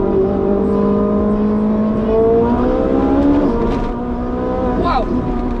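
A car engine in sport mode revs hard toward 9,000 RPM, its high, layered whine climbing steadily in pitch, loud and close, with a brief voice near the end.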